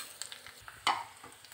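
Curry leaves fry in hot oil for a cucumber mango curry, a soft sizzle with a quick sharp crackle and stirring, faint and close.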